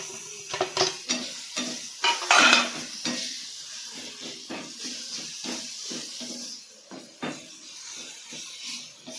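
Ginger, garlic and coconut cook in oil in a pan over a low flame, with a soft hiss and crackle under repeated close scraping and clinking of a spoon against the metal.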